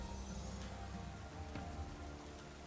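Steady rain effect from the Rain Dance move during a ranked battle in Pokémon Scarlet, a continuous dense patter of drops filling the short stretch at even loudness with no talking.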